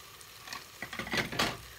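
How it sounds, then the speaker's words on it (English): Vegetables sizzling in a pan for fonio jollof, a faint crackling fry that builds into louder bursts of sizzle and stirring toward the end, close by and without talking. "my vegetables are just nice and it's sizzling, looking really nice and scrumptious"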